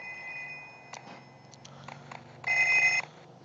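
A phone rings in the mobile game Payback 2, a steady electronic ring with tonal bursts and a louder ringing stretch near the end, heard alone with no talk.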